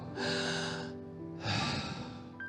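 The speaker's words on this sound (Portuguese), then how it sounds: "é uma respiração. É o som da respiração." Two long audible breaths demonstrated by a man, each an airy rushing exhale of about a second, close and alone with a brief pause between them.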